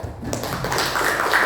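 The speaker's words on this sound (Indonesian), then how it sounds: "Tepuk tangan dulu." A high school class of students claps together in a short burst of quick, dense hand claps, close and moderately loud, with a little murmur underneath.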